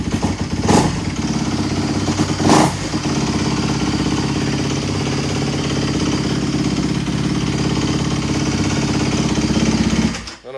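A 2022 Kawasaki KX250X dirt bike engine idles after start-up with a steady, loud, close mechanical chug and rattle, holding even with a couple of brief blips, then cutting off at the end.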